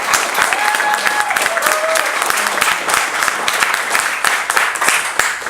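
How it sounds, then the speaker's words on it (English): An audience at a recital gives Miss Judy a round of applause, dense close clapping from a modest crowd with a few whistles early on, steady and lively throughout. "If we could all give Miss Judy a round of applause."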